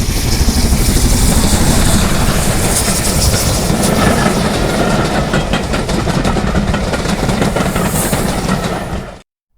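LMS Black 5 steam locomotive running on the Great Central line, a loud, steady rumble of wheels and clattering rail joints close by, fading abruptly at the end.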